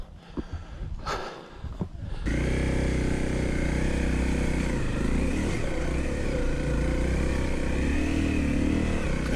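Honda CRF250L dirt bike climbing a steep, dusty hill on a hot day, its engine held at high revs in a loud, steady, buzzing drone after a short, rougher start, close by, with no talking.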